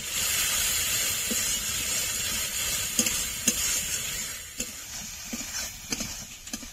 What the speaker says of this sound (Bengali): এক চামচ হলুদ গুঁড়ো, এক চামচের একটু বেশি দেব। ভালো করে কষে নেব।